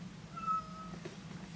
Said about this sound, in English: Can you hear the cats screaming?